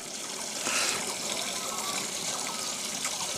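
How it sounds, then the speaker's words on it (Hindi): Water flows steadily from a village spring near a Hanuman temple in Baunla village, Karnaprayag, Chamoli, Uttarakhand, a continuous close rushing trickle with a brief louder gush early on. "हमेशा पानी है, इस तरह से बहता रहता है।"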